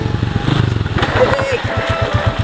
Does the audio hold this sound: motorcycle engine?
yes